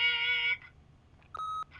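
An answering machine gives a short, clean electronic beep near the end, preceded by another brief tonal chirp, both clear and isolated against near silence.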